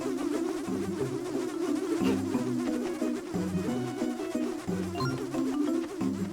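Swarming bees in the Nintendo game Spirit Tracks make a steady electronic buzz that hums continuously at moderate loudness, with pulsing, repeating tones and no talking.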